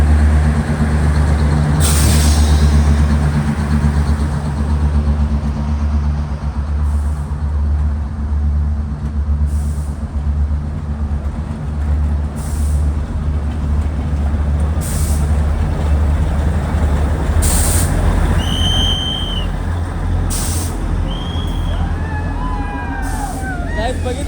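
Matheran toy train arriving at the hill station platform, a steady loud rumble of engine and wheels filling the scene throughout, with brief air hiss and high squeals of brakes near the end as it pulls in.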